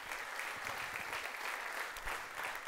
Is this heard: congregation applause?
yes